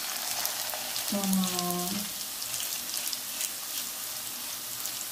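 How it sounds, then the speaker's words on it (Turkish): Chicken meatballs frying in oil, a continuous crackling sizzle with popping spatters, briefly overlaid by a short spoken word. "Güzelce kızarmasını bekleyelim dostlar."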